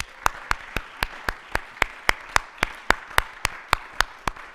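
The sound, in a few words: applause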